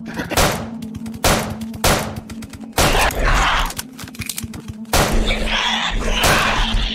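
Gunshots ring out at a monster in the horror game Death Park 2, sharp cracks in uneven bursts, some doubled, over a steady low hum with no talking.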